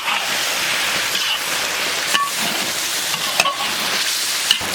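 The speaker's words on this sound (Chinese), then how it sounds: "炒香倒入鸡肉， 鸡肉上的油炒出来" Chicken pieces sizzle loudly in a hot wok with scallion, ginger and dried chilies as they are stir-fried, a steady dense crackle broken by a few sharp scrapes and clinks of the spatula, with no voices.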